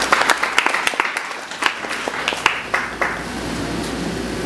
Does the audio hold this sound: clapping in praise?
yes